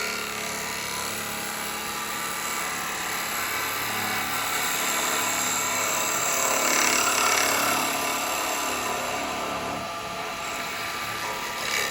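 A woodturning gouge cutting a cherry bowl on a lathe, a continuous loud whirring, hissing cut that swells slightly midway as the tool moves back and in again, with no talk.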